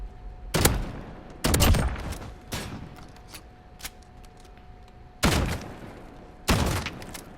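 Four R9-0 shotgun blasts ring out in Modern Warfare, spaced irregularly with a tight double shot near the start, each a loud, sharp boom with a short decaying tail over quiet game ambience.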